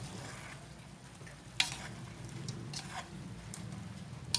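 Chicken wings adobo in tomato sauce are stirred in a pan, giving soft scraping and gentle sizzling with a few sharper utensil clicks, quiet and close.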